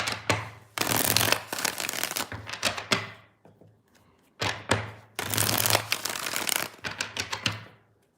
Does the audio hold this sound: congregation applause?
no